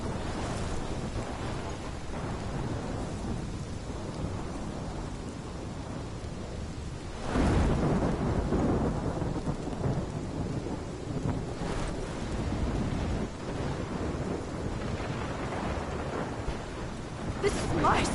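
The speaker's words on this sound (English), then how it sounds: "This is my storm." A thunderstorm with rain in the video game Life is Strange roars steadily, with a heavier swell of thunder partway through and constant rain hiss. The sound stays dense and loud throughout.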